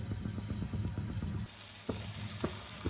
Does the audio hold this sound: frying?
yes